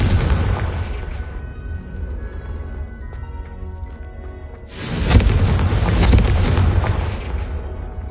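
A Confringo fire spell in Hogwarts Legacy erupts into a loud, close booming blast midway through, whose roar lingers for a few seconds over a steady rumbling game background.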